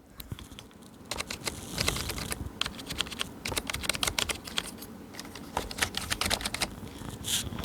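Fast typing on a quiet ASUS TUF Gaming K1 membrane keyboard, a dense run of soft key clicks close to the mic, steady throughout with no voices.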